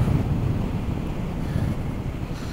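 Cold wind buffets the microphone during a ride, a loud constant low rumble with gusty fluctuations and no voices.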